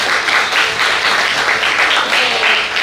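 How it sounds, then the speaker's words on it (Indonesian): A meeting audience applauds the engineering team in a steady, dense wash of clapping that holds at an even level for about three seconds with no voices on top. "Kita boleh tepuk tangan dulu."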